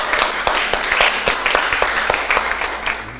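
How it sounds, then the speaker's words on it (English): Audience applause at a team recognition on a Thailand show, dense steady clapping from many hands with sharp individual claps standing out, close and fairly loud throughout. "So I want to give you guys a round of applause."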